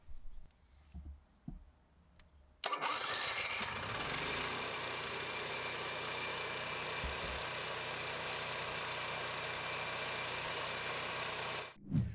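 An Onan 4000 generator engine cranks and catches after a few quiet handling noises, then runs at a steady, loud idle for about nine seconds before shutting down abruptly near the end.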